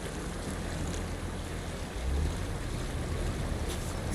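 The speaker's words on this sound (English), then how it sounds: "Wow, that water is loud." Loud rushing water surrounds an off-road vehicle in the SnowRunner video game on hard mode, a steady dense wash with a brief swell near the middle and no voices.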